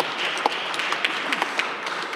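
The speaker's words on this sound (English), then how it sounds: "Let's give our guests a round of applause" Guests at a Cleveland City Council meeting receive a light, thin round of applause, scattered individual claps standing out over a soft wash from a modest room audience.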